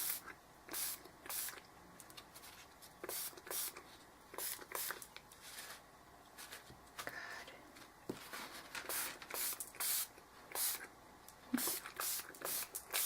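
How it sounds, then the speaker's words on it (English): Repeated hissing bursts of a malfunctioning paint sprayer spraying unevenly, short on-off sprays in an uneven rhythm, close and fairly loud. "It's spraying everywhere but where I'm pointing it."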